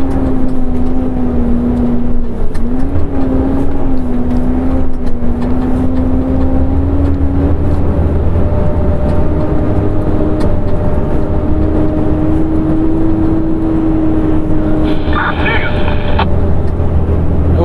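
A sugarcane truck's engine drones steadily as it climbs in a safe low gear in Goiás, a loud, constant low rumble with a sustained whine, heard from inside the cab while someone talks over it.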